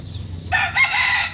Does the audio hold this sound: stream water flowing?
no